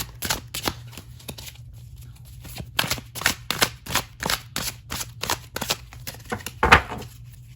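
Tarot cards are shuffled and drawn in a rapid run of crisp, close slaps and riffles, continuing steadily with one heavier thump near the end.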